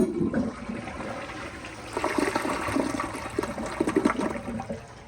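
A 2019 AquaSource Henshaw toilet flushes with a close rush of water that swells and churns for several seconds, then tapers into gurgling draining.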